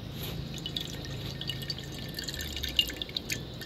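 Fat draining off cooked hamburger meat from a pan at a campsite, heard as a steady run of faint liquid drips and trickling, with no voices.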